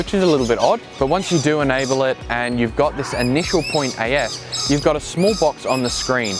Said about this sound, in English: I know that the birds are loud, it must be getting close to feeding time.